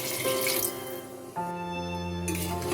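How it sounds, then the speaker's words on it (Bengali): Water poured into a pan of cooking prawns and potatoes in a Bengali mustard and poppy seed dish, a steady gurgling stream lasting a few seconds whose tone rises as it fills, heard close with no talk. "এবার আরও একটু জল দিয়ে দিচ্ছি যাতে আলুগুলো সিদ্ধ হয়ে যায়।"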